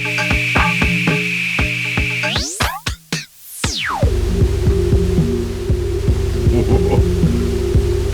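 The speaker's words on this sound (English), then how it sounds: "I can also switch it to filter bank and get a very different sound." A Moog Spectravox vocoder in filter bank mode gives a synthetic vocoded drone with steady pulsing tones, broken midway by a swooping sweep that rises and falls, then returning as a lower, buzzy throb.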